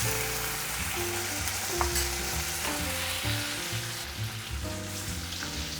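Chicken chili with onion flakes and soy sauce sizzles steadily in a pan over a low flame, with frequent stirring scrapes and clinks, close and continuous.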